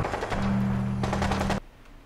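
Rapid bursts of gunfire in the Fallout 4 video game, a fast machine-gun rattle with a sustained low hum, loud and close for about a second and a half before cutting off into quiet.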